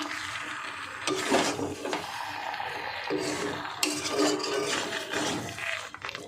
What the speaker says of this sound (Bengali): মিশিয়ে নেব মশলাটা।